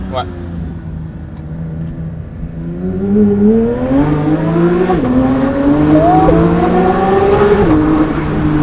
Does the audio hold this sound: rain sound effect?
no